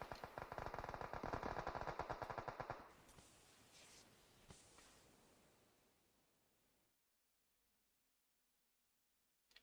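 Rapid automatic gunfire bursts in PUBG Mobile scrim match, dense and loud for the first few seconds, then thinning into scattered shots and fading tails before near silence.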